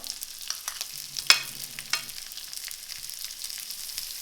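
Butter melting and sizzling in a frying pan, a soft steady crackle close by with a couple of sharp clinks as it is moved around.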